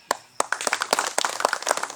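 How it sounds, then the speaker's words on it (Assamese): Audience applause at a plate opening ceremony, a crowd clapping in a quick, uneven patter that builds from a few sharp claps into dense clapping, fairly close. "এটা হাত চাপৰি দিবলৈ অনুৰোধ ৰাখিছোঁ"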